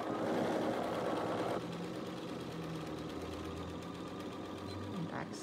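A sewing machine back stitching a corner of a zippered box bag, a steady close motor whir with rapid needle chatter that drops slightly in pitch partway through, running continuously.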